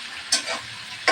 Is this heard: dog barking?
no